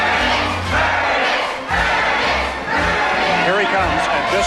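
A large crowd roars and cheers in rising waves, a loud dense wall of voices with brief dips between the swells.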